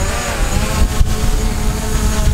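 A DJI Mavic drone lifts off from the sand dunes at Jericoacoara, its rotors giving a steady, close buzzing whir mixed with strong wind rumble throughout.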